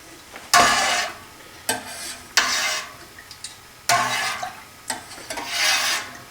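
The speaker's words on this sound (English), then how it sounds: "So you'll see I'm kind of a top down stir." Raw milk for Caerphilly cheese is stirred from the top down, giving close, repeated swishing and sloshing strokes in an irregular rhythm, each rising and fading, with no speech.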